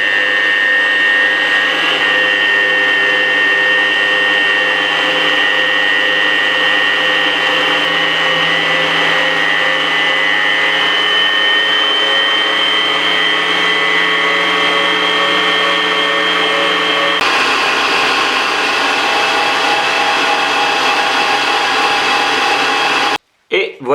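An electric mixer runs at high speed through a Nutella ganache, whining steadily and loudly for a long stretch, with a slight pitch shift partway through before it cuts off abruptly.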